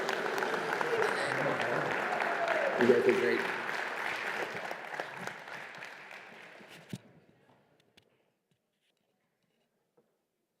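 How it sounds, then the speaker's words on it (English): Competition participants at the 2022 National SIM Competition get a round of applause from the crowd, a dense patter of clapping under a voice that fades out after about seven seconds. "Let's give them a round of applause."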